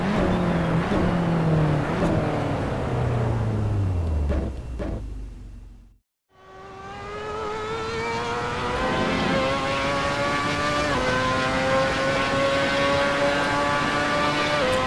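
Lotus Exos Stage 1 Formula 1-style race car in a racing video game, its engine screaming loudly through rising gear changes, dropping off briefly to near silence, then climbing again in a sustained high-pitched whine.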